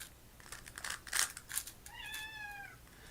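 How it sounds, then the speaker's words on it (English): An angry cat lets out a single drawn-out, rising-and-falling meow near the microphone, preceded by a few soft taps and rustles. "Someone's cat is angry"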